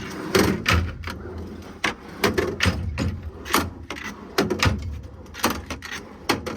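Several quick sliding thuds and clacks, metal ball-bearing tool drawers on a 2020 Kenworth T270 truck pushed open and shut in a repeating rhythm, close by with no talking.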